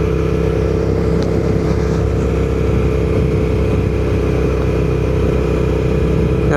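A Suzuki SV650 middleweight naked motorcycle engine runs loud and close, a constant throbbing drone without clear revving.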